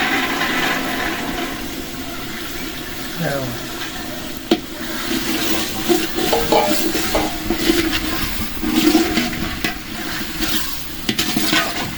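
Boiled chickpeas frying in spiced oil for chicken chickpea biryani, with a steady sizzle and occasional scrapes and clinks of a stirring spoon against the pot, close and continuous.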